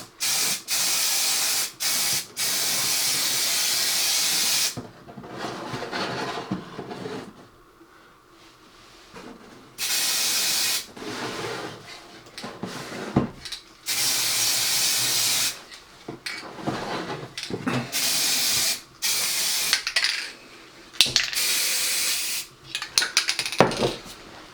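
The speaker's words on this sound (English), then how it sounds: "give it a little bit of a spray" Aerosol spray can spraying paint onto a Peco NB-80 model train shed, several bursts of close, loud hissing lasting a few seconds each, separated by quiet gaps with faint handling clatter.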